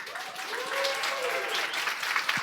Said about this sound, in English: Please, a round of applause for Flutter